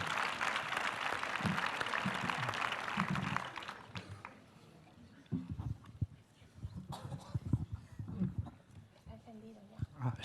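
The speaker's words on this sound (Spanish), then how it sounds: "Aplaudan, por favor." Audience applause at a panel debate on prisons, a dense burst of clapping for about four seconds that then gives way to a quieter room with scattered sounds and a voice.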